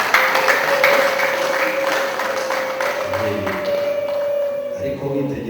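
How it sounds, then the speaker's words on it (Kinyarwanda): Wedding guests in Rwanda applaud the groom, a scattered round of clapping under a loud speaking voice and a steady sustained tone from the sound system. "mwamuhaye amashyi y'umusore"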